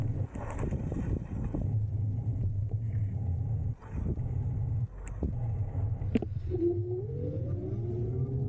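A FINBIKE R6 Adventure electric fatbike rides along under steady wind rumble, then accelerates with a thin motor whine that climbs in pitch near the end.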